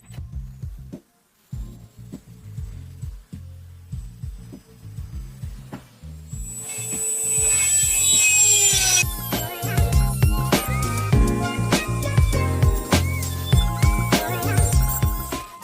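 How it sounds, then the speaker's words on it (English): A disc cutter slices a piece out of a small Honda car's bodywork, producing a bright, grinding hiss for a few seconds amid scattered knocks, clanks and metallic handling noises nearby. "That's what I just cut with the cutter"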